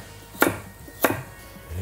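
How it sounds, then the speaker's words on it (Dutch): A knife chops through washed carrots on a cutting board, cutting them into coarse pieces: two crisp, sharp strokes about half a second apart, close up, with no talking. "Even in grove stukken snijden."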